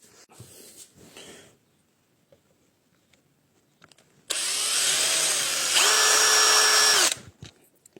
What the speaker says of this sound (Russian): І отак от буду насверлювати. Сверло на 2.